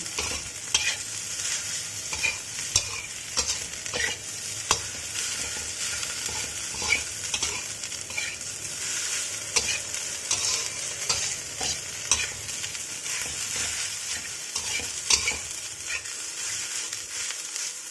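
Fried rice with salted fish and oyster sauce being tossed in a pan, a continuous soft sizzle broken by repeated scraping and clacking spatula strokes at an uneven rhythm.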